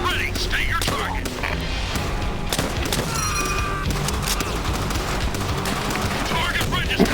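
Artillery fire support in Call of Duty World at War on a Pacific battlefield, heard as dense booming blasts and continuous gunfire under shouted in-game voices.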